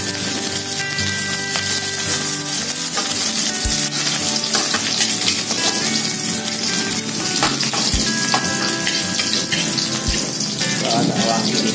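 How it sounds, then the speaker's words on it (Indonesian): Garlic sautés in a hot pan as the start of a stir-fried beef and soy sauce dish, giving a loud, steady, continuous sizzle up close with light stirring noises throughout. "Setelah panas, kita tumis dulu pertama bawang putih ya."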